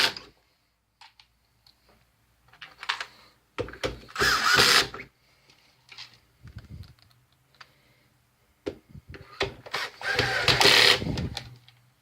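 Screws being driven into plastic threads in a Polyvision PJ905 DLP projector, with two bursts of ratcheting, whirring driver noise separated by light clicks and handling of parts, close up with no talking.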